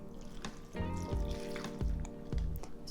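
Water poured into a deep bowl of sliced onion marinating with salt, sugar and apple vinegar: a soft, close splashing trickle with a few gurgles, steady over a low background hum and no speech.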